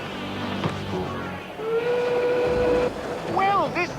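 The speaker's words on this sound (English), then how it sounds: "The train on platform 4 is bound for Edinburgh and Inverness." A steam train whistle sounds a long steady blast at a station platform, followed by shorter hoots, over a rumbling background of engine and crowd noise.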